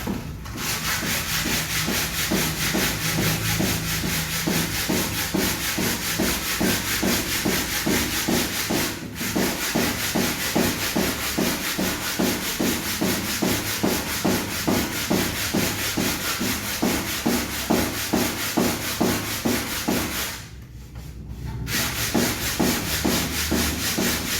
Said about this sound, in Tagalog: Lilihain natin siya. Uh, gamit ulit po yung 100 grit na liha.